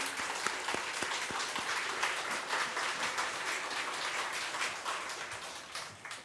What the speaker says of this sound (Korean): 우리 박수로 한번 환영해 주십시다.